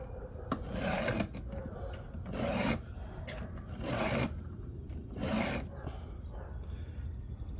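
Hand-filing a Stihl .325" saw chain with a Stihl 2 in 1 filing guide: four or five rhythmic rasping strokes of file on cutter teeth, each a short gritty scrape with pauses between, close up.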